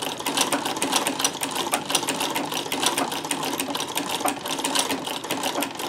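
A Davis sewing machine fitted with a vertical feed scallop plaiter attachment runs steadily with a fast, even mechanical chatter, close and continuous throughout, with no talk.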